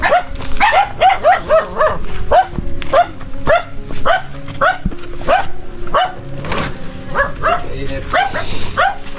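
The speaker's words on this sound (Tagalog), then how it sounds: "aming aso" A household dog barks repeatedly in a fast, insistent rhythm close by, loud throughout, while people talk and exclaim over it.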